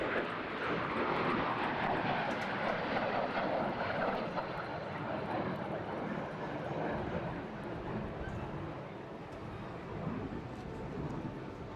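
At the Eastbourne International Airshow a jet aircraft roars past overhead, a broad, loud rumbling sweep that fades gradually over several seconds, with an announcer's voice faintly underneath.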